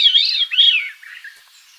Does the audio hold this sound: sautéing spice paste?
no